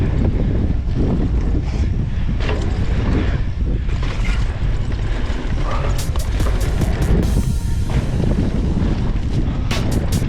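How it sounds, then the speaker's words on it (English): Heavy wind buffeting the microphone on an outdoor ride on a Fezzari Timp Peak enduro e-mountain bike, a loud continuous roar with no pauses and faint clicks and rattles underneath. "Oh, that wind."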